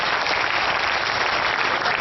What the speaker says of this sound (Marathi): एकदा जोरदार टाळ्यांच्या गजरात दाद द्या